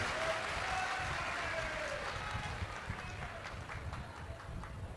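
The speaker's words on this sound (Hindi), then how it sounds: "एक बार जोरदार ताली बजाएं" An audience at a Shiv Mahapuran religious discourse event in Bhilai claps in a dense, sustained burst of applause that gradually thins out, heard alone without speech.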